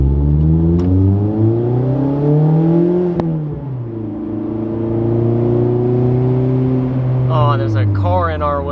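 A Mazda Miata ND fitted with an ISR circuit spec exhaust revs up close and loud, its pitch rising and falling through several throttle blips, with voices talking over the engine near the end.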